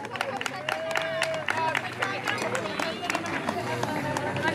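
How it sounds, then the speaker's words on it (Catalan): Festival crowd in Puig-reig applauding the Templers association during the 2019 celebration, with thick, rapid clapping throughout, punctuated by sharper claps and mixed with crowd voices and babble. "un fantàstic aplaudiment per l'Associació dels Templers de Porrets"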